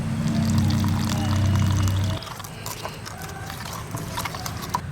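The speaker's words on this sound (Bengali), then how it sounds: "এবার জল দিয়ে এটাকে ফেটিয়ে নেব।" Water is poured into flour seasoned with salt and chili powder, then the mix is beaten into a batter for a Bengali egg kosha in a rural outdoor setting. A steady close pour gives way to quick, clattering whisk strokes.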